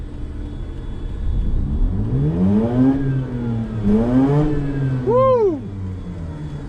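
A rotary-engine car revs hard up to about 9,200 RPM, the engine note sweeping up and falling back in two long pulls before a sharp final high rev, loud and close with a brief cheer over it.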